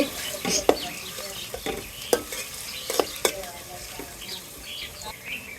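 Onions frying lightly in oil for white pulao, a soft steady sizzle with repeated stirring scrapes and occasional sharper clinks of a utensil against the pan, close and moderate in level.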